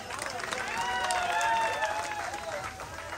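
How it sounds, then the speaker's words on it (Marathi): A crowd at a neighbourhood cultural show applauds a woman's ukhana recital, sustained clapping rising and falling at moderate loudness, with a raised voice carrying over the top of the crowd. "जोरदार टाळ्या झाल्या पाहिजेत"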